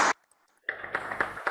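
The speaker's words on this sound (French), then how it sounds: "On peut déjà t'applaudir, Louis." Applause breaks out at the close of a conference round-table session: a brief burst of clapping, a short pause, then sustained, fairly close clapping from the audience.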